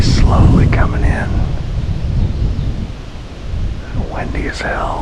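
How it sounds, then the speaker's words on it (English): Strong wind buffets the microphone outdoors during a late-season wild turkey hunt, a loud, continuous low rumble with gusts throughout, and faint voices and bird calls come through at moments. "Windy as hell."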